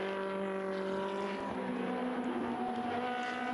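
Ferrari Challenge race cars at Mugello scream past with high, steady engine tones. The pitch sweeps slightly as the cars pass, and the roar stays loud and continuous throughout.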